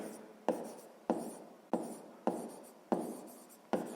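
Pen strokes on paper while filling in a sixth-grade maths table on electricity consumption, a series of six evenly spaced short scratchy marks, quiet and close, with no voice.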